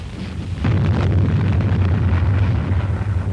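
Heavy artillery shelling pounds the Iwo Jima beachhead, a loud continuous rumbling roar of explosions that swells after a brief quieter start and holds dense and booming throughout.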